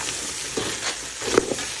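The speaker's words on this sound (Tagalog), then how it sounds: "Halo lang natin." Seafood with chili flakes being stirred in a frying pan, a steady close sizzle broken by a few scraping stirs and small clinks of the utensil.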